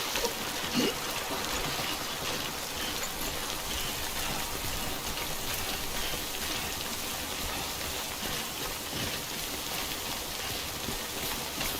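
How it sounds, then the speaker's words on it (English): Steady rain pours down in the game Death Stranding, a dense, even hiss with trickling water that runs unbroken and fairly close for the whole stretch, with no voices. "Don't stay out in the rain any longer than you have to."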